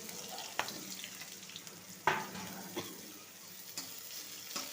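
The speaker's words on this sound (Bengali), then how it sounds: "রসুনটা পুরোপুরি লাল লাল ভাজা হবে না, এরকম সামান্য ভাজা হলেই হবে।" Garlic frying in oil in a wok alongside nigella seeds and green chilli for a bottle gourd peel chechki, giving a steady soft sizzle with a few sharp stirring clicks and scrapes, with no one talking.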